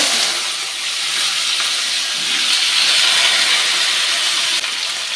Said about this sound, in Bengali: সবজিগুলো আমার ভাজা ভাজা হয়ে গেছে